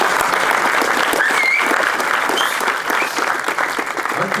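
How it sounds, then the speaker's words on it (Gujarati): A large audience at a Gujarati film premiere applauds loudly and steadily, with dense, sustained clapping that fades slightly toward the end. "અંકિત ભાઈ માટે બહુ જ બધી તાળીઓ માંગીશ"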